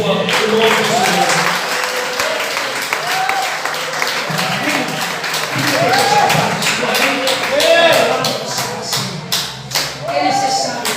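A church congregation applauds steadily while a voice speaks over the clapping, which swells and continues throughout.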